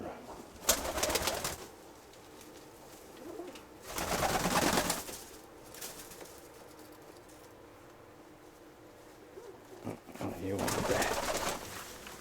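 A pair of Kirovohrad pigeons coo in a loft, with three long bursts of cooing and wing noise separated by quieter stretches, close and fairly loud.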